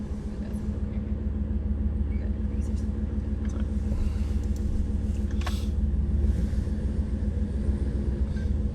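A Jeep Gladiator with a swapped 5.7 Hemi V8 idles with a steady, loud low rumble that holds throughout, and a voice speaks faintly over it.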